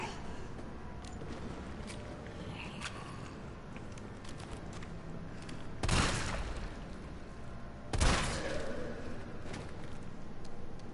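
Gunfire in Resident Evil 3 Remake, with two sharp, loud shot bursts about two seconds apart standing out over a steady game background rumble.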